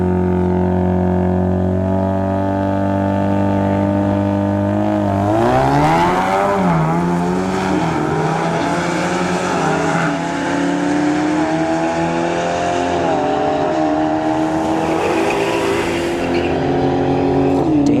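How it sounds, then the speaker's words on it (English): At a drag strip, an EcoBoost Mustang and a Scat Pack Challenger idle loudly, then launch with a surge of rising engine roar and shifting revs that carry on strongly for several seconds. "Dan Baker here in the left lane, EcoBoost Mustang versus a Scat Pack Challenger"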